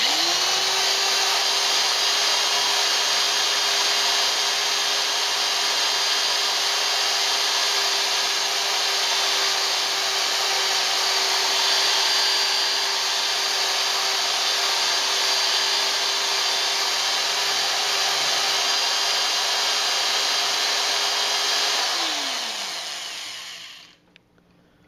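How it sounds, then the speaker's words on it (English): A power drill with a hanger attachment aerates beer wort, whirring at a steady high pitch for about twenty seconds with a liquid churning hiss underneath, then winds down and stops. "I have my hanger contraption attached to my drill, so I'm going to go ahead and aerate the wort"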